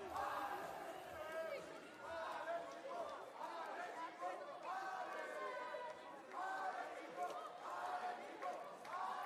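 At an indoor pole vault meeting, Univers Perche in Superdevoluy, France, the crowd cheers and claps in rhythmic swelling bursts, fairly distant and moderate in level, with a commentator talking over it.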